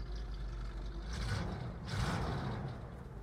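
A Cadillac 62 V8 idles with a deep, gurgling burble, a low continuous rumble with slight swells, heard up close and without talk.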